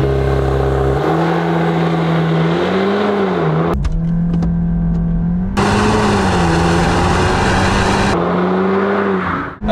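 Hard launch in a Mk8 VW Golf R with launch settings and stability control off: a loud, close engine drone rises in pitch through the gears, with brief dips at each shift, continuous for nearly ten seconds.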